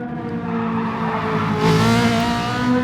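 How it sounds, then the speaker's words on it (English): A Ferrari 458 race car sliding in GT Sport, its engine droning steadily with a harmonic whine as tire squeal builds and brightens midway, loud and close. "That car's definitely sliding around."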